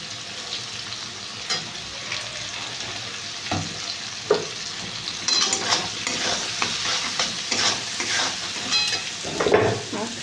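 Spiced masala with tomato, turmeric, chilli and a little sugar stir-frying in a kadai, with a steady sizzle under repeated scraping and stirring strokes of a spatula, close and fairly loud throughout.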